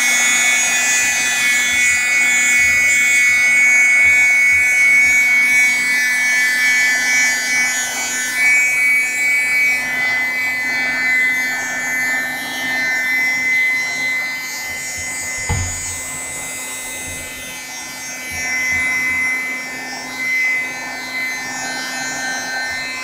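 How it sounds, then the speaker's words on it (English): A craft dryer runs steadily while watercolor paint dries, giving a loud, constant whirring drone with a high whine that lasts throughout. A brief thump sounds partway through. "cuts out the noise of the dryer, so we'll see. But if it's noisy, I apologize."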